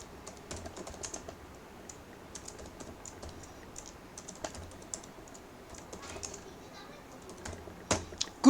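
Someone types an SQL query on a computer keyboard, a quiet, steady patter of individual key clicks with a few sharper presses toward the end.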